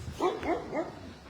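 A pit bull at a dog shelter gives three short barks in quick succession, close but fairly quiet, with no talking over them.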